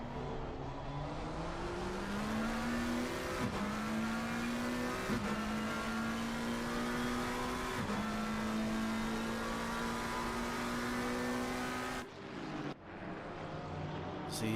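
An AMG race car engine in a sim racing game at a Japan circuit, a sustained droning engine note that climbs steadily in pitch through the gears, with brief shift dips, loud and continuous with no talk.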